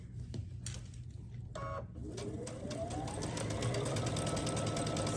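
A sewing machine runs a seam down the long side of a quilt block, starting after a few clicks and handling sounds, then settling into a steady, close whirring hum that grows slightly louder.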